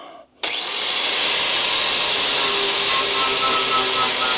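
An angle grinder fitted with a flat disc starts up and bites into metal on a Charger restoration, a loud high-pitched whine and harsh grinding roar holding steady and close.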